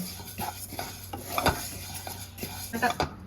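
Moong dal being dry-fried in a kadai and stirred, a spatula scraping and clinking against the pan in quick repeated strokes over a soft, steady sizzle, close and moderately loud.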